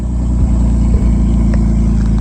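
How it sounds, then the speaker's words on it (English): Straight-piped RB30 engine in a Nissan Patrol off-roading through the bush, a loud, steady low rumble with rapid exhaust pulses throughout, the engine under continuous load. "rb30 ripping in the bush"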